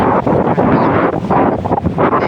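Strong monsoon wind on the Pattani coast in Thailand buffets the microphone, making a loud, continuous roaring rush with gusty surges throughout and no voices.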